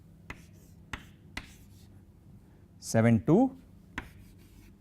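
Chalk or pen tapping and scratching out numbers by hand in a lecture, several short sharp strokes spaced apart, with a brief spoken number in the middle.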